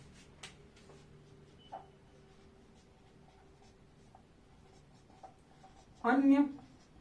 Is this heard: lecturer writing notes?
yes